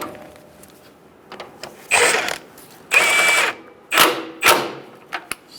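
Bracket bolts on a 2014-2018 Subaru Forester front lower control arm being tightened, several short bursts of mechanical ratcheting, loud and close, separated by quiet gaps.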